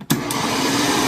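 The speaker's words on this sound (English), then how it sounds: "After we let that meat chill down a little bit more, we're doing a second grind here" Electric meat grinder running steadily as chilled pork goes through a second grind for banger sausages, a continuous close motor whir with a brief dip near the start, no talk.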